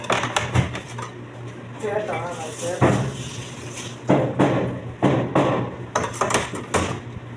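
A knife finely chops carrots on a board in a Saudi food-shop kitchen. Sharp, irregular knocks come close by, sometimes in quick runs, while a person talks over them.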